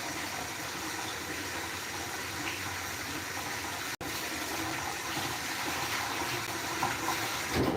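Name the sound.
running tap water rinsing a spoon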